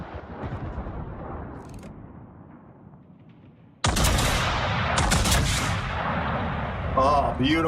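Heavy naval gunfire in World of Warships as a battleship fires on destroyers: a sudden loud broadband blast near the middle, followed by sustained rumbling booms and a few sharp cracks, with chatter faintly underneath.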